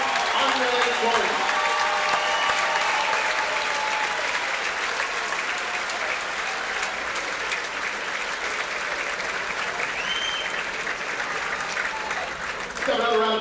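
A crowd applauds a senior boys' basketball player at a high school JV game against Butler, with loud, dense clapping and cheering that holds steady for the whole stretch.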